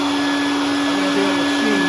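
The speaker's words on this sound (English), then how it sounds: "Shop vac!" A shop vac runs close and loud with a constant whining roar and steady hum, unbroken across the short stretch.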